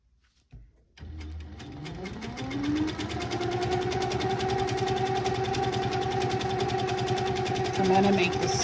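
A domestic sewing machine starts up and runs steadily while free-motion quilting a feather practice panel. It gives a rapid, even mechanical stitching hum, close and continuous, with a voice speaking faintly underneath.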